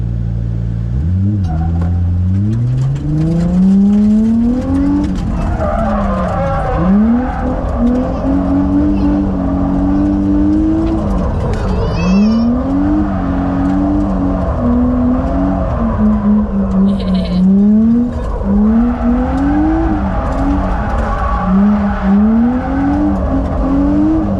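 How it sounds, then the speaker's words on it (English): A car drifting around traffic islands, its engine loud and revving up and down in long sweeps with tire squeals mixed in, close by for the whole stretch, with voices now and then. "we'll do some drifts around the islands"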